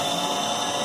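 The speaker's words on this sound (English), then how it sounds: "got it to a good point to where I could just drill it out" A power drill bores out a curtain rod hole, a brief continuous high-pitched whir at steady speed, close and alone.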